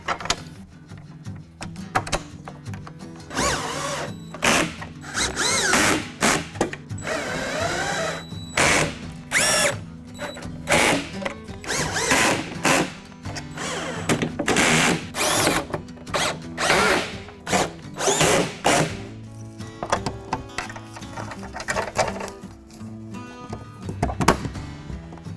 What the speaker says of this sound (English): you're just going to use a 13mm socket to tighten those down